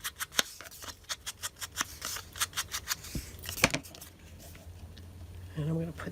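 Scissors cutting fabric embellishment tags, a quick run of about a dozen crisp, evenly spaced snips close by, then a few scattered cuts and rustling, with a voice briefly heard near the end.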